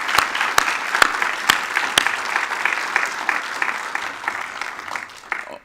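Audience at a panel discussion applauding board members, a dense steady patter of many hands clapping with a few sharp near claps, gradually thinning toward the end.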